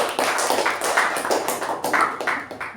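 Audience applause at a Toastmasters club meeting, honoring Toastmaster Veerabhadrappa: a dense, steady patter of many hands clapping together, close and moderately loud, lasting throughout without talk.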